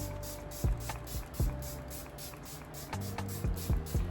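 Short pumps of e.l.f. setting spray, several quick hissing bursts in irregular succession, close and fairly quiet, with no talking.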